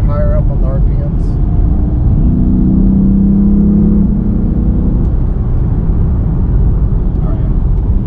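A 2013 Lexus IS-F engine drones low and steady, its pitch swelling upward for a couple of seconds as it revs high, then settling back to a rumbling idle.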